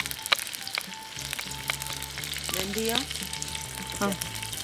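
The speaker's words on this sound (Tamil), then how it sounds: "வெந்தயம் கடுகு சேர்க்குறாங்க." Fenugreek and mustard seeds sizzling in hot oil, a close crackling fry with scattered pops and light metallic clinks from a ladle, no voices.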